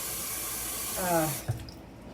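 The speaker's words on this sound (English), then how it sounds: "I am going to rinse these green beans because they've been in this Tupperware for a few days, and give them a good rinse." Tap water runs steadily into a sink as green beans are rinsed, a close hissing stream that briefly shifts in tone before the flow stops, with a short voice sound at the end.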